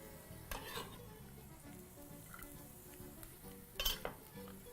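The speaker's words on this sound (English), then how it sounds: "Right, so garlic into your pan." Garlic and ginger sizzle in a pan while being stirred, with soft scraping and light clinks of a utensil against the pan and a few louder clatters near the end.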